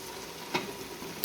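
Spices, red chilli powder and roasted crushed cumin, frying in hot oil with ginger and garlic for Lahori mutton paya, a short low sizzle with a brief stirring clatter near the middle and a sharp knock at the end.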